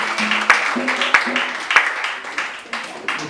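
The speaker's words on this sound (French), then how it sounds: "Let us clap for God's glory." A church congregation claps hands together in a steady rhythm for a few seconds, sharp repeated claps carrying over a background of voices.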